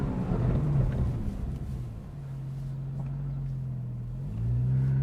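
A 991.1 Porsche 911 GTS engine revs toward nearly 8,000 rpm, rising and falling in a few moderate pulls heard from inside the car, fairly quiet overall.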